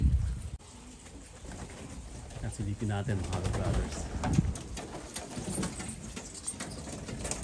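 A racing pigeon arrives at the loft during a futurity race and coos, soft and close, beneath someone talking over steady background noise.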